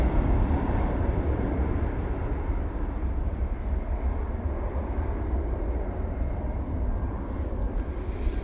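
An EasyJet airliner departs Manchester Airport for Lisbon, a broad, loud rumbling roar that holds steady throughout with buffeting wind noise and no voices.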